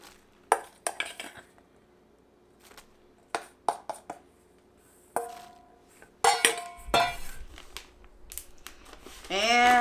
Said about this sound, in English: Gonna get these into our bag. So we'll just spoon our mix in.